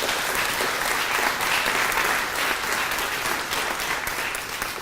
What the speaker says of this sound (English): So give yourselves applause right now.